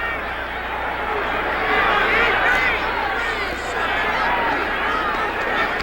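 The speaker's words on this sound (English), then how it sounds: "This can be a raucous crowd" A raucous crowd at a 1979 Dallas Cowboys vs Washington Redskins football game roars as a loud, continuous stadium hubbub that swells midway, with a commentator speaking over it.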